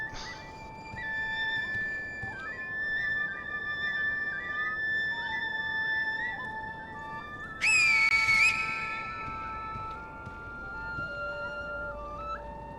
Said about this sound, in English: Ah, so much whistling.